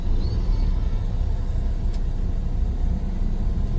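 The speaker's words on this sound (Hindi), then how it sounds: "दोनों तरफ का ट्रैफिक चल रहा है भाई," Road traffic flows in both directions on a busy street, a steady close rumble of car and vehicle engines passing without a break, with no voices in the foreground.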